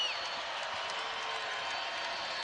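Basketball arena crowd roaring during a college game, a broad steady wash of cheering and noise, fairly distant and faint, holding evenly for the whole moment.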